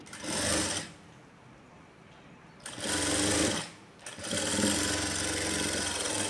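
Sewing machine stitching a folded frill on a blouse, running in three loud bursts with short pauses between, alone with no talking.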